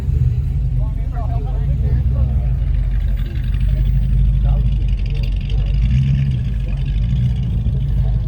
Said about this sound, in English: Oh, we've got cars going every which way now.